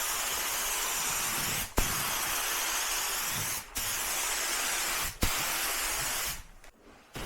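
A paint spray gun lays base coat onto the bonnet of a Honda Civic Type R FK8. The hiss is loud, close and steady, broken by three brief pauses, and it sputters and tails off at the end.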